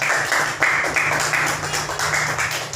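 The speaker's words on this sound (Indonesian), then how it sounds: "tepuk tangan untuk kelompok 3" Students in a classroom applaud a presenting group, a loud, close round of clapping that comes in rhythmic, pulsing waves throughout.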